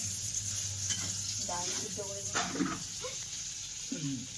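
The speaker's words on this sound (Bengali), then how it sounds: "গাজর ভাজা" Potatoes and carrots frying in a pan, a continuous close sizzle with some stirring scrapes, while a voice talks briefly over it.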